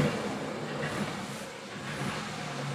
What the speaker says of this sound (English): The sounds of a car that's more than half a century old.